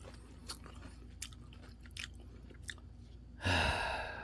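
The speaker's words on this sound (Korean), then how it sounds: "이 양배추가 맛있어요. 정말 맛있어요. 이 아삭아삭거리고" A crisp cabbage leaf wrapped around thick doenjang paste is chewed up close: a few quiet crunchy bites early on, then a louder, sudden burst of crunching near the end.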